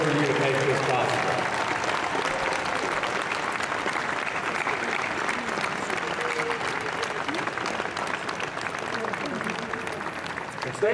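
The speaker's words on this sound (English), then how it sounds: "give them a rousing round of applause and support and shout outs for everything that they did for you to make this possible" Graduates at the 2015 WGU Texas commencement applaud their loved ones in a large hall, a loud, continuous roar of many hands clapping that holds steady throughout, with faint voices mixed in.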